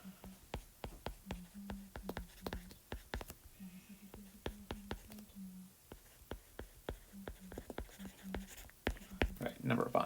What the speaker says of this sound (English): And I'm just going to write this down.